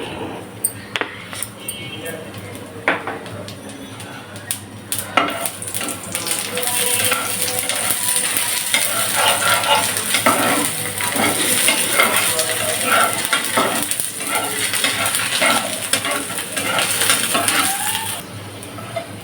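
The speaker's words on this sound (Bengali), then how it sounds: "হয়ে গেল জিরার ফোড়ন শুকনো মরিচ ফোড়ন" Cumin seeds and dried red chillies sizzle in hot oil for a tempering, a steady loud crackling hiss that swells after a few clinks and stirs and keeps going, with faint voices in the background.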